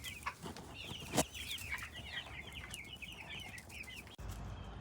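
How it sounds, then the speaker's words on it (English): Chicks and chickens on a small farm with a flock of 50 baby chicks, giving a steady stream of high, overlapping peeps and chirps at close range, with one louder squawk partway through and no talk. "Then we got our baby chicks."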